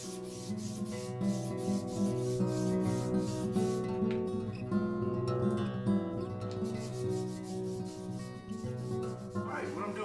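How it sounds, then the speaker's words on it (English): A sanding block is rubbed back and forth over a wooden guitar fingerboard to dome it to a radius, giving a steady rhythmic scraping over a sustained background hum, with no talking. "you just keep sanding until the entire top is domed to an exact 12-inch radius"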